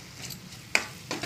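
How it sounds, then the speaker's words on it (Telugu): Spices being stirred in a pan for palak paneer, with soft scraping strokes and one sharper clink of the spoon against the pan, close and quiet. "చూడండి ఇలా మిక్స్ చేసుకోవాలి"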